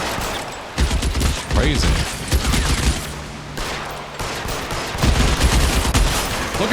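Gunfire rings out in the video game L.A. Noire: repeated sharp shots in rapid bursts across several seconds with short gaps between volleys, loud and close, as someone briefly speaks over them.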